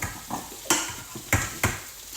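Potatoes frying in a pot while being stirred with a utensil, a soft sizzle under a few sharp scraping knocks of metal against the pot, close by, for a home-cooked kuri khitchri.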